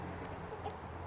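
Chickens cluck softly and briefly in a farm coop, faint and low against a quiet background.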